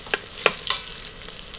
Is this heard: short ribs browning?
yes